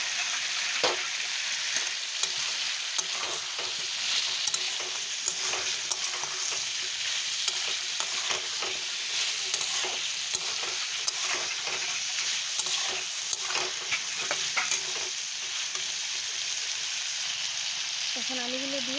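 Potatoes being fried and stirred into a village-style Bengali chicken curry in a pan: a steady, close sizzle with repeated scraping stirs throughout and a brief voice near the end.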